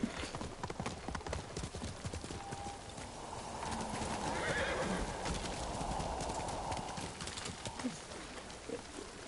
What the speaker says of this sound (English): I like the way the horses run in this game for some reason.